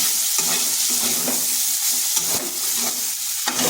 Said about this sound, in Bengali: কুঁদরি আর আলু ভাজা হয়ে গেছে,